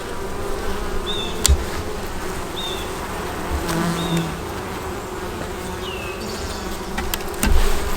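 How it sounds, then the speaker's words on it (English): Honey bees buzz steadily from an opened hive, a dense close drone with occasional louder passes of individual bees near the listener and a few soft knocks of frames being handled. "Excuse me, bees."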